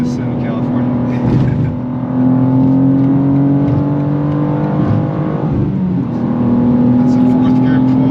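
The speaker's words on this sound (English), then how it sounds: "That's a 4th gear pull." BMW M2 G87 accelerating hard through fourth gear, a loud steadily rising engine drone heard from inside the car, with a brief lift around the middle before climbing again; a voice speaks over it.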